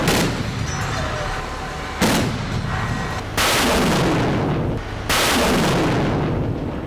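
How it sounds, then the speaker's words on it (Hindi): Russia's Pantsir air defense missile system firing, with four heavy booming launches that each roll out into a long, loud roar and follow one another closely. "बारूद उगलता हवा में टारगेट को खत्म करता यह रूस का Panjshir air defence missile system है।"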